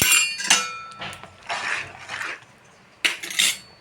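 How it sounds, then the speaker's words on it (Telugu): A spoon stirs semolina (rava) in a metal pot for upma, giving close metallic scraping and clinking strokes in uneven bursts with brief gaps. "ఇందులో రవ్వ వేసాను. ఇలా కలుపుకోవాలి."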